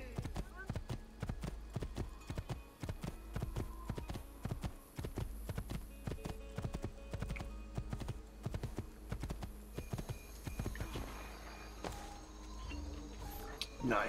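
Horse hooves clip-clop in steady rapid rhythm throughout as a horse is ridden in Assassin's Creed II, with someone talking over the continuous galloping beat and soft game ambience.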